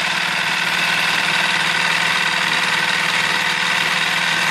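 A 2013 Lehr LP5.0S 5 hp propane outboard motor with a new powerhead runs steadily near and loud, a continuous even engine drone with a faint knocking texture and no talk over it.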